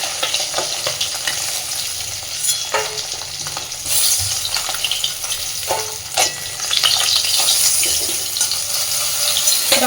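Koi fish frying in hot oil in a home kitchen for a cauliflower curry, a steady loud sizzle with scattered pops and occasional clinks of stirring, running throughout with no talk.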